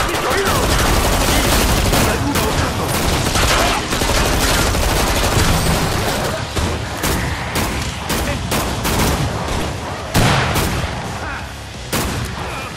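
Sustained, loud gunfire in the game Killing Floor 2: rapid machine-gun bursts and heavy booming shots crackling continuously, with sharper individual reports toward the end.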